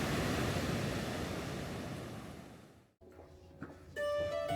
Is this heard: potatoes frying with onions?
no